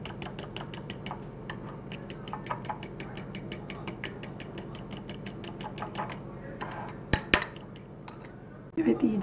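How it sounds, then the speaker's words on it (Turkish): Rapid rhythmic clinking of a whisk against a bowl as wheat germ is beaten together with egg and pumpkin for a baby's crepe, steady fast strokes for about six seconds, then a pause, a sharp knock and renewed scraping. "Evet, ruj yemi de ekliyorum. İyice çırpacağım."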